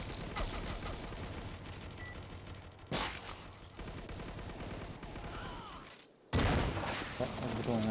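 Gunfire in the video game Foreign Legion, dense continuous volleys of shots close by, briefly cut to near silence before a loud burst resumes, with voices talking over the shooting.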